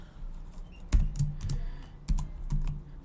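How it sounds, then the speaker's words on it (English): Keys clack on a computer keyboard while someone types a label into a spreadsheet cell, producing a quick, uneven run of close, light taps with a few sharper strikes. "I'm going to type it in this time."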